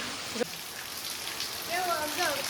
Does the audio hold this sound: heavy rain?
yes